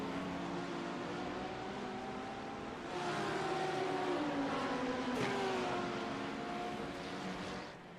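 LMP2 prototype race cars in the iRacing sim racing game at the 12 Hours of Sebring give a steady, droning engine whine whose pitch rises and falls through gear changes, growing louder midway and fading at the end.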